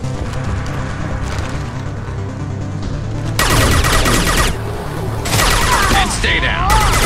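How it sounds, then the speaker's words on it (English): Gunfire in Mass Effect 2 during a fight in captured mines on the Terminus: loud, dense bursts of rapid shots that break out suddenly, pause briefly, then resume with crackling impacts. "Firing a high impact shot."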